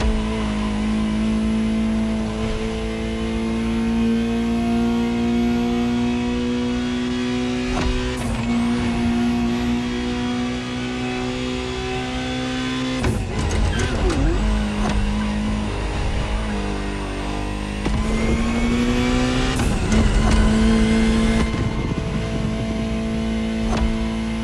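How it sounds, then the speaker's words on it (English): A high-revving Ferrari supercar engine in the racing video game The Crew Motorfest drones steadily, its pitch shifting with gear changes and brief revving bursts, loud and sustained throughout. "Just listen to the car you're driving."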